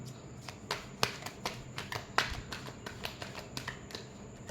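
Tarot cards shuffled by hand during a reading, giving a quick series of soft papery slaps and flicks at irregular intervals, close and fairly quiet with no voice.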